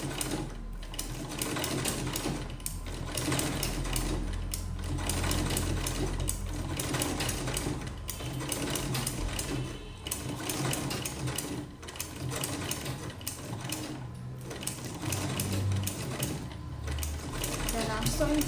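A manual sewing machine stitches a buttonhole with an attachment fitted, giving a steady, close mechanical whir and rattle of needle and gears in repeated runs with short pauses between them.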